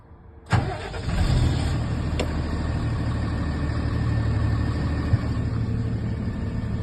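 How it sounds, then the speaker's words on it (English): A vehicle engine that runs a Frigoblock fridge unit cranks and catches, then settles into a steady, close idle with a brief click midway. "Start the engine."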